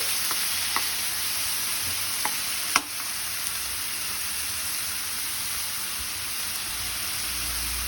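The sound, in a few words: fish intestines being stirred and fried in oil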